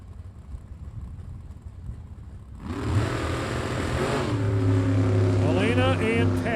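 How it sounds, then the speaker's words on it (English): A drag racing roadster with a 648 cubic inch big block Chevrolet on a throttle stop roars up loudly and holds a strong sustained drone, with an announcer talking over the engine. "Davis Roadster, 648 cubic inch. Big block Chevrolet on the throttle stop."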